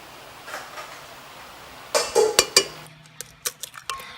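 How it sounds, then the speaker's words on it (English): Eggs cracked one after another into a mixer bowl: a quiet start, then a quick cluster of sharp taps and cracks, followed by a few lighter clicks, close and without talk. "So you just go ahead and crack your eggs directly into your mixer bowl"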